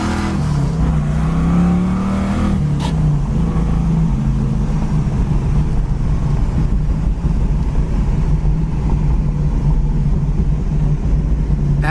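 A 1980 Camaro Z28 with a 5-speed Tremec transmission on the road, its engine droning loud and steady from inside the cabin, rising in pitch through a gear early on and then holding a constant tone.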